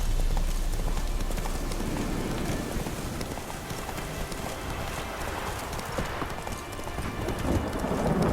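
A horse gallops with fast, rhythmic clip-clopping hooves over a constant patter like falling rain, fairly close and moderately loud.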